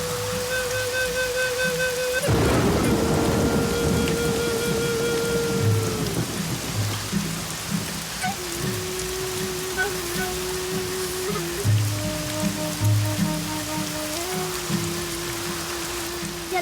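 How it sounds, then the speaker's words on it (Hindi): Heavy rain pours down steadily in a film scene, broken early by a sudden loud thunder crash that rolls off, with a music score playing underneath throughout. "बारिश रुकने वाली नहीं है बेटा"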